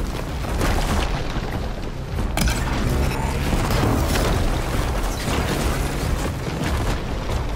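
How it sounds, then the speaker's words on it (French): Loud, dense rumbling blasts fill the scene in Horizon Forbidden West, with a sharp burst near the middle amid continuous crackling, booming game-style destruction. "Ok, munitions, explosion."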